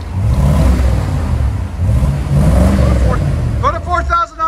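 A 1980 Mercedes 450SEL with a 4.5L V8 and Borla Pro-XS exhaust revs loudly and close by, with a deep, steady roar that swells and holds. A voice briefly comes in near the end.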